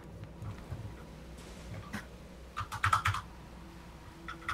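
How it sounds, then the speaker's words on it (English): Sparse keyboard clicks, then a short loud flurry of hard keystrokes on a computer keyboard picked up close by, with light background noise between bursts. "You sound very angry at your keyboard when you're actually typing instead of gaming."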